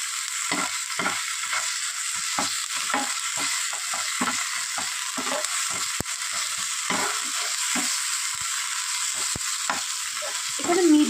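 Ginger garlic paste stirred and fried in a pan while cooking aloo paratha filling, with steady close sizzling and repeated short scraping strokes of a spoon throughout, no talk.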